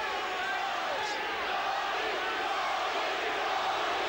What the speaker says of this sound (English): Chant of Tony